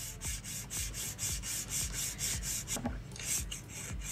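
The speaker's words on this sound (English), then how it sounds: "And do a filing routine. So side wall first," Rhythmic back-and-forth rasping of a file across a fingernail, working the side wall during a gel polish manicure, with steady strokes about twice a second, close and clear with no talking.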